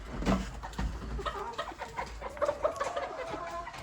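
Cochin and İspenç hens and roosters clucking and murmuring nearby in a busy, continuous flock chatter with occasional sharper calls.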